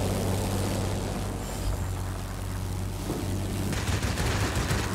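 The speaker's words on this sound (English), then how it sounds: "Seems like these planes do actually heavily rely on their amazingly high caliber cannons." Heavy aircraft cannon fire in World of Warplanes, a dense, continuous roar of gunfire layered over loud engine drone with no pauses and no talk.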